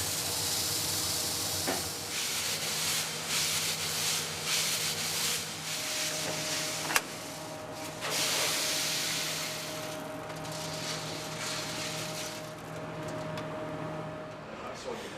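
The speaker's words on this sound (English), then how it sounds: "sending its aroma out into the street, the small Uno roaster" A small Uno coffee roaster runs steadily in an old shop with a continuous hissing, whooshing roar and faint tonal hums, broken by a brief clack midway, while a voice talks over it.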